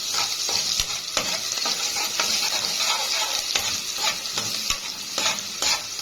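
Onions fry in a spoonful of traditional ghee, a dense close sizzle broken by repeated scraping clicks of a spoon stirring the pan, with no voices.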